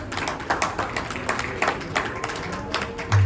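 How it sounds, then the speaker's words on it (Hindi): An audience claps for a speaker coming on stage at an award ceremony in a hotel hall, with a burst of steady applause and scattered individual claps throughout. "जोरदार तालियां हो जाएं शालिनी मैम के लिए"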